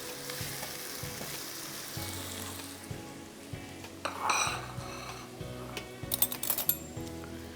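Onions sizzle steadily in hot oil in a kitchen pan, with occasional clinks and scrapes of a utensil against the pot, close and moderately quiet, with no talking.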